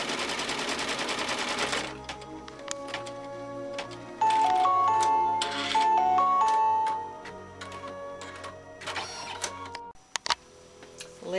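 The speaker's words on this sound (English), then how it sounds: "Lay down your folded fabric edge border and stitch the tack down line." A sewing or embroidery machine stitching a tack-down line over a folded fabric edge border, running in bursts of rapid mechanical ticking with pauses between runs, close and loud with no talking.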